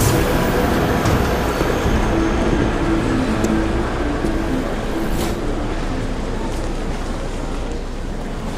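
Inside a train in Deus Ex: Mankind Divided, a steady rumbling rail hum rolls on with faint clicks and tonal whines, slowly fading over several seconds with no voices.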